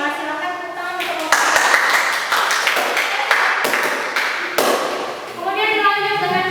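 A school class claps hands in a classroom, a short burst of brisk clapping between stretches of talk, fairly close and loud.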